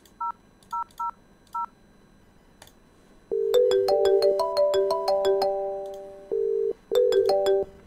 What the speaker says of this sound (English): So we're just gonna dial extension 2001.